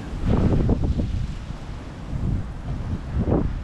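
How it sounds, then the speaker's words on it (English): Strong wind at a fishing lake buffets the microphone in heavy, rumbling gusts that swell and fade, loud and close, with no speech. "When it quiets down a bit with the wind it'd be quite nice."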